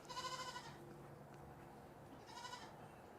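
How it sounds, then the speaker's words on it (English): A goat bleats twice, two wavering nasal cries separated by a pause, faint and somewhat distant as if carried through headphones, with no speech over it. "How am I hearing a goat?"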